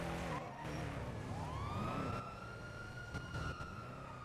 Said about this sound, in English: Damn, 2 ambulances?